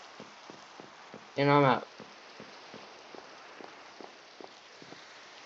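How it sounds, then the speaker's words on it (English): Rain falling in a video game, soft steady patter with scattered small drops and faint footstep-like taps, and a person briefly speaks early on. "And it's just rain right here."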